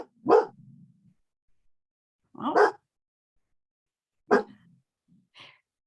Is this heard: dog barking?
yes